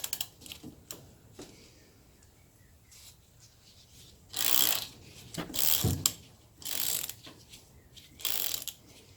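A ratchet works a starter motor bolt loose on a Honda ATC, giving rapid clicking pawl runs in several bursts amid quieter mechanical rattles.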